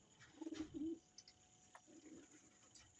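A large pigeon gives a few soft, low coos in a short burst, then a quieter coo follows, close by in a calm indoor setting.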